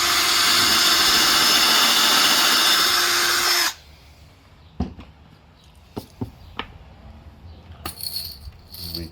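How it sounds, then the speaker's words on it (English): A power drill with a bit set to 23 millimetres bores slightly into an MDF board, whining loudly and steadily for a few seconds before stopping. Scattered clicks and light knocks follow. "you just take the drill and we drill through slightly into the MDF board"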